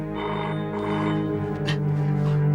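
An old-style telephone rings in a horror drama scene, a sustained tonal, bell-like trill that is loud and close, layered over a low humming background.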